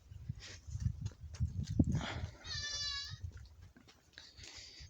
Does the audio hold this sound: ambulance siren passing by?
no